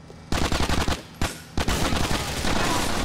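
Rapid automatic gunfire in GTA IV: The Ballad of Gay Tony, loud close bursts of repeated shots, a short gap, then a sustained barrage of shooting.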